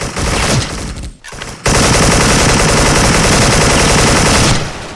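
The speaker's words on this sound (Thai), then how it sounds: "ผมติดนิสัยนั่งยิงเอเคอะ" Sustained automatic AK74 rifle fire in the online shooter Special Force, loud and close, one burst, a brief pause, then a long unbroken stream of rapid shots that cuts off near the end.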